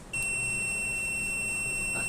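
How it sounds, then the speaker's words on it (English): A steady high-pitched electronic buzzer in a light-sensor circuit sounds continuously, shrill and close, starting abruptly and holding without a break. "red LED turns on and buzzer also activates."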